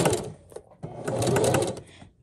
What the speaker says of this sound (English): So I'm going to go ahead and sew.